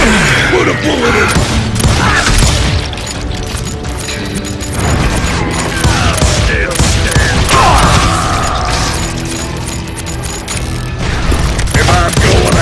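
Loud, dense gunfire from the Western shooter Call of Juarez Gunslinger, rapid overlapping shots and clattering weapon mechanics with booming impacts, continuous and close through the whole stretch.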